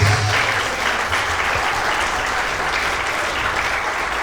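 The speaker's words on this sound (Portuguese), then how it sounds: "Bate palmas e dá glórias a Deus." A church congregation claps at a youth service, a dense, steady wash of many hands close and loud throughout, without talk over it.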